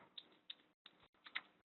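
A few quick, faint keystrokes tapped on a computer keyboard, sparse clicks in short bursts.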